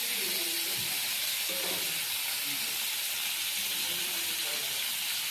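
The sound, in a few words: prawns frying in hot oil in a wok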